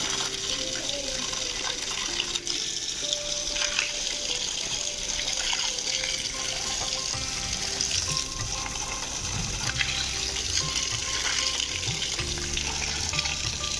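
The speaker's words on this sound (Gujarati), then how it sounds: "જો બધા ઝાડમાં મસલ પાણી પાઈ દીધું છે છેલ્લા બે ઝાડમાં બાકી છે પાઈ દઈએ" Water gushes from a pipe onto trees being watered, a steady, close rushing flow with faint splashing that runs unbroken throughout, with no voices.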